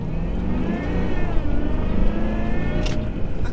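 Supercharged 400 hp V8 in a Jaguar S-Type R with J-gate automatic pulling hard from inside the cabin, a steady loud drone with rising whine as revs climb, no talk over it.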